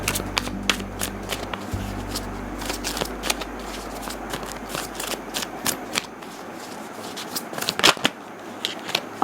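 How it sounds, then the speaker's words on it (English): Tarot deck being shuffled by hand, crisp riffling card snaps and rapid flutters in irregular bursts, close and clear, over a low hum that fades away partway through. "we will shuffle the tarot deck for you"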